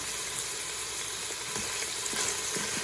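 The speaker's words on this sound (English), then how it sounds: "And now things are turning kind of like nice and sizzling." Steady sizzling and crackling of bratwurst stew frying in a hot pot, constant and close, with faint clinks of stirring.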